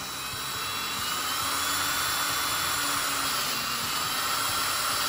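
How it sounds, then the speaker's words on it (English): A high-pitched drill whines steadily and loudly throughout, boring a quarter-inch hole while building a quail cage, a constant motor drone with no voices. "we're just gonna drill this hole, this uh, quarter inch hole through here"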